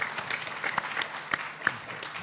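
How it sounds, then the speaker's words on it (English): An audience applauds at the close of a historians' panel at the George W. Bush Presidential Library, with steady clapping and a few sharper claps standing out, and no talk over it. "Let's have a round of applause,"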